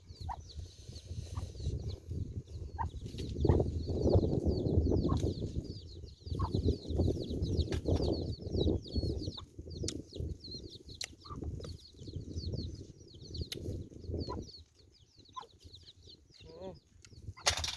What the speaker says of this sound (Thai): ไก่ก็อยากมากินน้ำแป๊บ